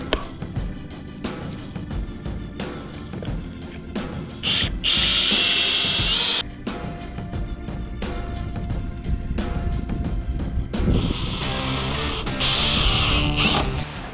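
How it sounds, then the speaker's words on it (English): A cordless power drill whirs in repeated bursts, biting into 2x4 wood with high grinding whines, starting and stopping several times close by, drilling holes for a bed base in a Toyota Tacoma. "I'm just gonna use that to drill the holes"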